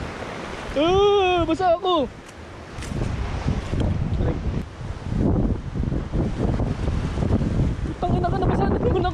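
Strong wind at the seaside with rough waves, roaring and buffeting the microphone in a steady loud rush, with a voice calling out over it near the start and end.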